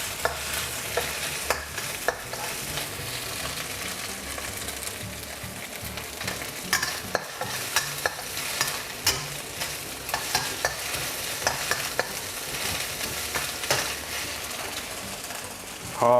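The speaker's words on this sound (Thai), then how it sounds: "หอมใหญ่นะครับกับกระเทียมนะครับ ลงไปผัดให้เข้ากันนะครับ" Onion and garlic stir-fried in a wok for mala fried rice with Chinese sausage: a continuous loud sizzle broken by frequent scraping and clacking of the spatula against the metal, steady throughout with no talking.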